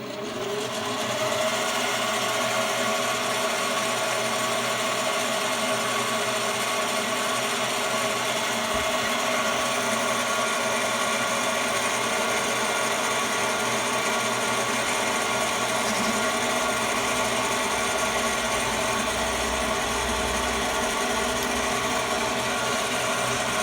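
Metal lathe facing a thousandth off the face of a rifle receiver for a 6mm XC build: continuous loud whirring, humming machine noise held steady throughout, no talk.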